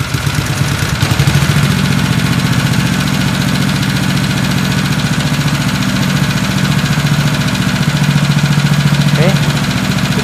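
The engine of a modified manual rice thresher runs at a steady idle, producing a loud, continuous, evenly pulsing drone that stays close and unchanged throughout.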